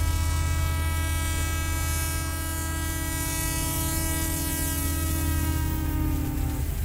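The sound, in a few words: train whistle and train departing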